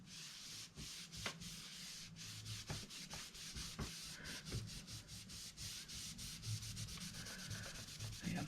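Spilled craft paint is wiped and rubbed off a surface in steady, close, dry scrubbing strokes with soft repeated scratchy passes, faint overall and with no talk.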